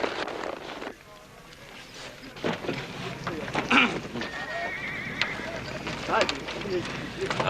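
A bronc horse, called a hammerhead, neighs and whinnies amid clip-clopping hooves and general outdoor commotion in a Western ranch setting, with people talking over the sound.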